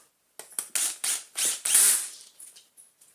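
Screws go back into a Dyson DC50 Small Ball vacuum during a motor refit, heard up close as a quick series of short ratcheting clicks and turning bursts from a screwdriver.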